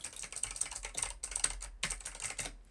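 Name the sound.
computer keyboard typing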